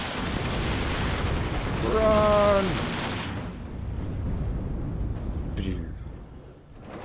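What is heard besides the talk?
explosions and gunfire in the video game WARNO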